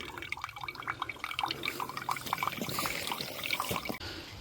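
Filtered water drips and trickles into a bag at a wet woodland camp, a close, busy patter of drops and small splashes that continues throughout without speech.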